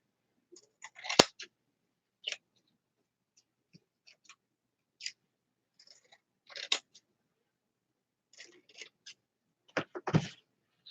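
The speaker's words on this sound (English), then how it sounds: "If my scissors were good, I should be able just to clip down and cut it" Old, blunt scissors snip through wreath materials in a quiet room, giving scattered sharp single cuts and brief clusters of snips separated by silence, close and crisp.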